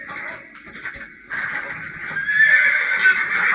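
A horse in a video game neighs loudly and close by, a drawn-out whinny that swells midway and holds to the end, with faint hoof clopping underneath.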